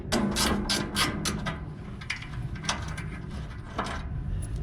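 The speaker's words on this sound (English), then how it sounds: "1/2 inch wrench, and get this one out, and there's another one down on the bottom I'm gonna get out right now." Ratchet wrench working the bolts on a Lennox rooftop unit's blower motor adjustment brackets, a rapid run of close metallic clicks with pauses, over steady background hum.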